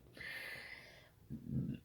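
A single close sneeze from a woman: a sharp breathy intake followed by a short voiced burst, quiet and alone.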